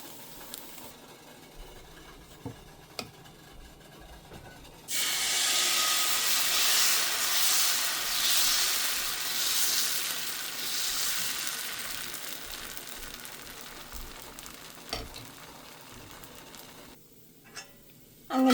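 Dosa batter sizzling on a hot pan, a steady broadband hiss that swells in loudly after a quiet start and holds for over ten seconds before cutting off near the end.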